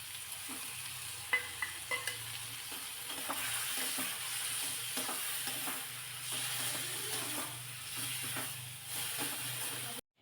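Tomatoes with a ground sesame-coconut paste sauté in a pan, giving a steady close sizzle and hiss with occasional stirring scrapes and light clinks throughout; no speech.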